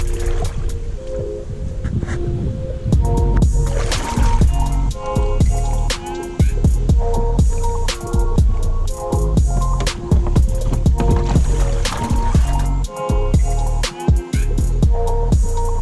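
A stand-up jet ski runs across open water with a loud, continuous engine drone whose pitch rises and falls in steps as the throttle changes, mixed with splashing and wind.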